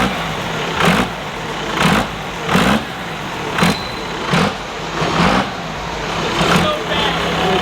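A 900HP Cummins-powered Shorty race truck with a 5-speed revs hard in seven or eight sharp, evenly spaced bursts over a steady rumbling idle, loud and close, with no voices.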